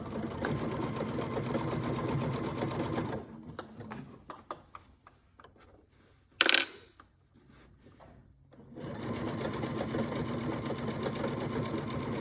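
A sewing machine stitching fabric for a one-piece bread bag, a fast steady mechanical whir that stops for a few seconds of clicks and handling, then runs again at the same even pace.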